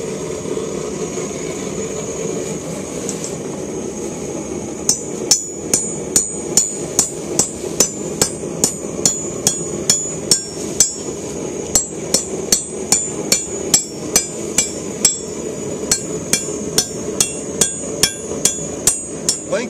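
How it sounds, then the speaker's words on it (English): Hammer forging a coiled spring into a flat Damascus steel billet, a long run of loud, steady ringing blows at a brisk even rhythm over the constant roar of a forge. "I'm going to try to mash it more or less flat"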